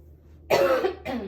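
One person gives a single sharp cough close to the microphone, then a shorter second cough, in an otherwise quiet room.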